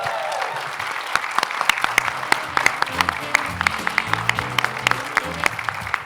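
An audience at a sommelier contest final applauds the three finalists with steady, fairly close clapping, crisp individual hand claps over a low murmur throughout.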